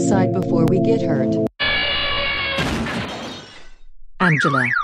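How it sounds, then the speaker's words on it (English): In a cartoon ski-trip scene, a skier hits a parked car in a loud, close burst of crashing and shattering, set among other tonal sound effects and followed by a brief wailing, siren-like tone. "Angela, Matthew, I'm so sorry Mau Mau hit your car"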